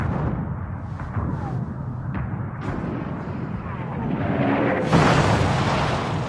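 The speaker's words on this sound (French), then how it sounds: "les hommes qui tiennent le front des Vosges entendent le bruit du canon" Low, continuous rumbling of distant World War I artillery cannon fire on the Vosges front, swelling into a heavier boom near the end.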